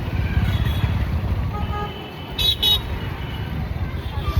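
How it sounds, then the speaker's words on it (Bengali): A motorcycle rides through road traffic, its engine rumbling close and steady while a couple of short horn toots sound from nearby vehicles midway; wind and background road noise run throughout. "বাইক নিয়ে বেরিয়ে পড়েছি।"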